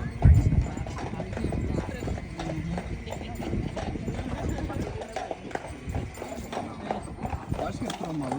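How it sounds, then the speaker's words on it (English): Carriage horses clop along as they pull downhill, their hooves a steady beat beneath continuous nearby talk and a rumbling ride, with one brief whinny early on. "We are going downhill with the horses in the lead."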